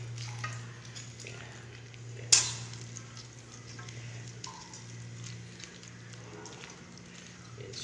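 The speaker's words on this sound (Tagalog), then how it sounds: "Medyo haluin po natin konti" Shrimp sinigang is stirred gently in a pot, producing soft, quiet scraping and faint bubbling, with one brief sharp clink partway through.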